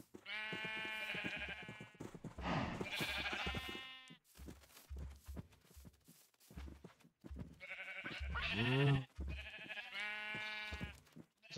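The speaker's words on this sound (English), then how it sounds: "A lot of sheep." Sheep in a survival multiplayer video game bleat repeatedly, near and fairly loud, with overlapping wavering calls and a few short pauses between bursts.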